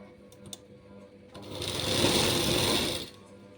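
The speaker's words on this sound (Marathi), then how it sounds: "इथे व्यवस्थित कपडा करून आपल्याला शिलाई द्यायची आहे" A sewing machine runs in a steady burst of stitching on fabric for a designer jacket, starting after a quiet pause, holding for about a second and a half and then stopping, close and fairly loud.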